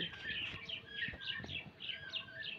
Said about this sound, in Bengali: এই পাখি ডাকে, কেমন করে ডাকে